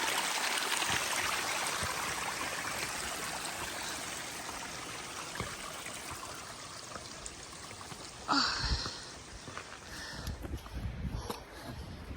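A waterfall pours steadily onto a snowy mountain trail on the Appalachian Trail, a broad continuous rush of falling water close by, briefly disturbed by a louder splash or thump near the end.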